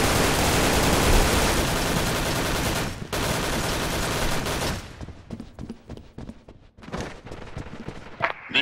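Sustained, dense gunfire from Special Force 2 in a clan war match, loud for about five seconds, then breaking into scattered sharp individual shots with gaps between.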